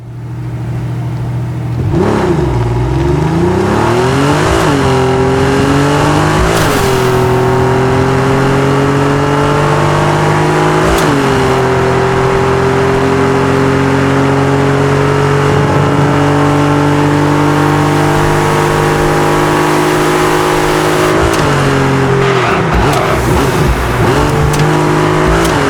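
A designed car engine from a Crankcase Rev vehicle demo revs steadily and loudly, climbing and dropping in pitch through several gear-like shifts with layered exhaust and engine tones, continuous with no talking.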